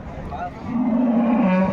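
A cow lets out a long, low moo close by at a livestock market in Punganur, rising and holding steady over faint background noise.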